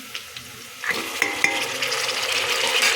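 Tomatoes frying in a pan while making Nati-style mushroom biryani; quiet clinks first, then a rising sizzle with stirring scrapes and utensil taps, close and fairly loud, no speech.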